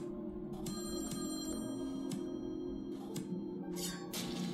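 A telephone rings in the puzzle video game Slayaway Camp, with a fairly quiet, bright, repeated bell-like ringing over a low game music bed.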